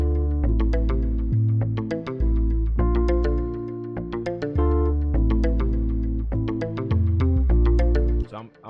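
An Afrobeats bass line from the Sub Boom Bass plugin in FL Studio follows a chord progression: deep, booming sub notes in a bouncy rhythm, loud and up front under plucked chord tones.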